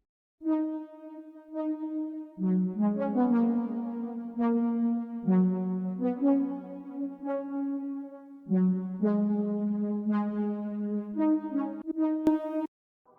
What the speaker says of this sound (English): I then also added a synth type of sound, which is called True Analog, and it's also from Roland JV, and it sounds like this.